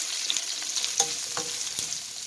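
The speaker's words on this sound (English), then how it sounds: "I'm just going to stir these up and get them cooking." Onions and mushrooms fry in a thin coat of oil in a pan, a bright dense sizzle throughout with a few soft scraping stirs layered on top, close up and with no voices.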